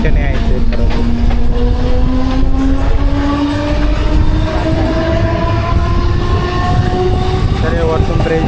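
Mumbai local train running at speed, a loud continuous rumble and clatter with a long rising whistle-like tone sweeping through, close and unbroken throughout.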